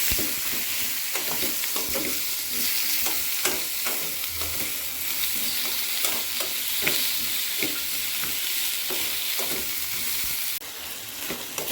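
Bottle gourd pieces cook in a pan on high flame, a steady close sizzle of frying under repeated stirring scrapes, with no voices.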